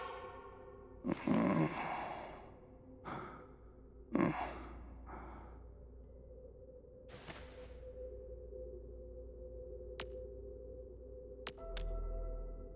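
An unconscious character in the Arknights Endfield video game breathes in slow, heavy sighs, with several distinct breaths over a quiet, low ambient hum and occasional faint clicks.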